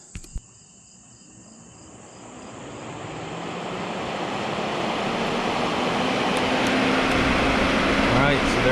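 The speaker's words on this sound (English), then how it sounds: "The compressor just kicked. We have a green light. Hear it running." A RecPro / Houghton Belaire 9500 RV air conditioner with a soft start fitted clicks, then its compressor and fan spin up into a loud, steady roaring hum that builds over several seconds and holds.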